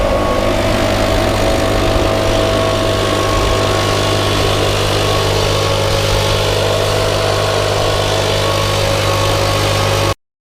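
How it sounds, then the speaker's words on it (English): A backpack leaf blower drones loudly and continuously at a steady pitch during fall yard cleanup, close by, running without pause until it cuts off abruptly at the end. "let's get at it with the demonstration with the leaf blower"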